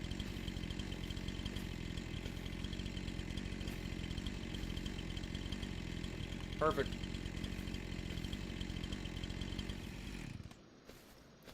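Chainsaws run steadily while trees are cut to clear a forest, a loud continuous buzzing drone that holds throughout before cutting off abruptly near the end, with a brief spoken word over it.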